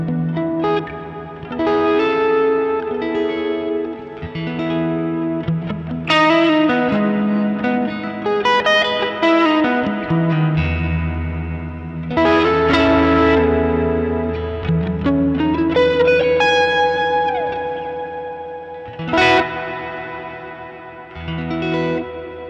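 An electric guitar runs through the reverb effect of a Sonicake Matribox multi-effects unit, cranked all the way up, playing sustained chords and single-note lines with long washy tails, loud and close with no talking.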